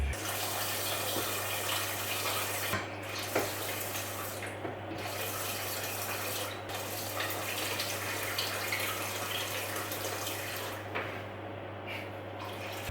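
Steady, continuous rush of filtered water running into a sink to rinse rice in a home kitchen, with a constant low hum underneath and no talking.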